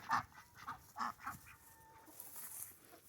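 Chickens cluck nearby in a quick run of short, clipped calls, then trail off into softer scattered clucks over a faint background, with no one speaking.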